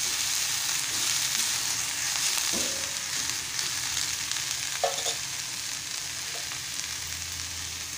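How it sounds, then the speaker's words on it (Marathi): Sickle senna leaves sautéing in a pan, a steady close sizzle with occasional scrapes and stirring knocks of a spatula, no voices. "आणि परतून घेत आहे"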